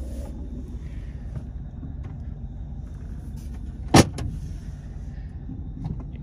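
A 2003 GMC Sierra 2500HD SLE 4x4 with the 8.1 V8 and six-speed manual crawling in low range: a steady, deep engine rumble with one sharp click partway through and no talking.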